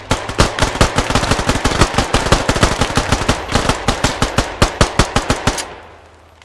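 Rapid automatic gunfire from the video game Squad, a loud close burst of dozens of sharp evenly spaced shots lasting several seconds before stopping abruptly, with no talk over it.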